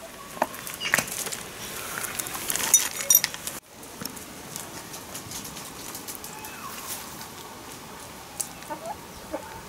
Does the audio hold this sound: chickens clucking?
yes